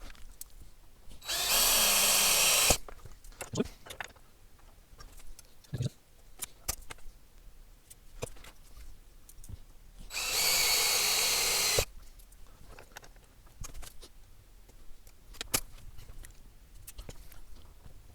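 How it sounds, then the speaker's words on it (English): A power drill bores holes in a relay computer backplane in two loud, high-pitched whirring bursts of about a second and a half each. Scattered clicks, taps and handling knocks fill the quieter gaps between them. "Let's get those holes drilled."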